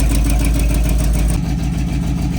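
An old square body truck engine, a barn find with an exhaust leak at the header, idles loud and close with a steady low rumble that settles and dips slightly as it idles down.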